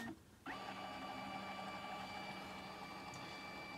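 An old combined printer-scanner starts a scan pass with a motor whir and steady mechanical hum, held continuously and fairly close after a brief quiet start, with no talking.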